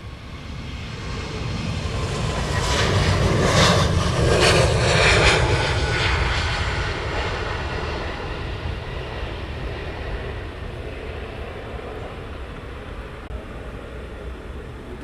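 A DHL cargo aircraft at Luton Airport roars loudly through the air, its engine noise swelling to a peak then slowly fading into a steady distant rumble, with no talking.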